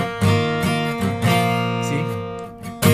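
Yamaha LJ16 acoustic guitar played up close, a handful of plucked notes and chords ringing one after another with bright, sustained strings.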